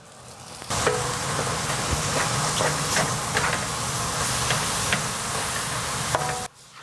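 Sliced mushrooms added to softened onions in a hot pan, giving a loud, steady sizzle and hiss that holds for several seconds before cutting off abruptly, with no voices.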